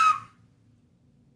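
A person lets out one short, bright whistle that cuts off almost at once, leaving a faint low room hum.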